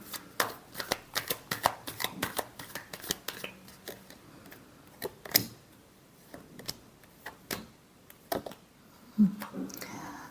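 Tarot cards shuffled by hand in a quiet room, with rapid soft taps and riffles in irregular bursts, close and low in level, and a few faint murmurs.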